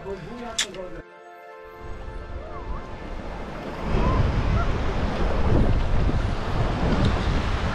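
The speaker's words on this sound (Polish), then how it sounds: "Jak widzicie, udało nam się wyjść nad morze." Sea waves wash in and the wind roars across the microphone at a Baltic beach, the surf swelling louder partway through. People talk over it near the start.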